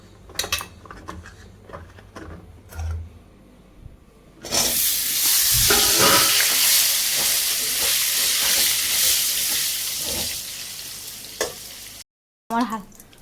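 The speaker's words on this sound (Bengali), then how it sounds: "দিয়ে পটলগুলো একটু ভেজে নেবো, হালকা ভেজে নেবো পটলগুলো" Pointed gourds dropped into hot oil with turmeric for light frying: a few quiet clinks of a pan, then a loud, close, hissing sizzle that holds steady for about eight seconds with stirring scrapes through it.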